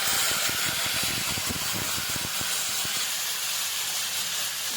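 Tomatoes hitting hot oil in a pan for Andhra-style thakkali thokku, a loud, steady broadband sizzle and hiss with crackling pops at the start that settle into continuous frying.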